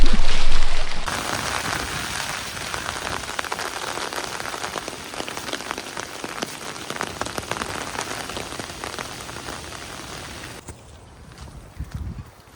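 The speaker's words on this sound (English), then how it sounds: "Oh God, it's raining." Steady rain falls outdoors, a dense continuous patter on surfaces that fades somewhat toward the end, with no speech.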